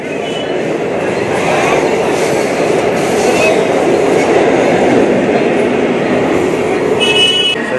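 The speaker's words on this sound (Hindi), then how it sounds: "सो चलिए गाइस, आ गई है ट्रेन।" A Mumbai local train pulls into the station, a loud continuous rumble of wheels and carriages with some squealing and clatter, crowd voices mixed in beneath the noise.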